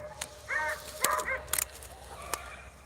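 Beagle pups on a rabbit chase bay in the distance, a few faint, short, scattered yelps and cries with gaps of quiet between them.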